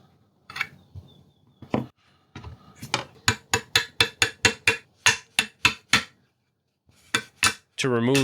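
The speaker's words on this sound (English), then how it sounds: "To remove the stuck gas block, I had to hammer it out with a brass rod and CLP." Sharp metallic taps ring out in a steady series of hammer strikes on a brass rod, driving a stuck gas block off a BRN-180 rifle upper, about a dozen evenly spaced blows, loud and close.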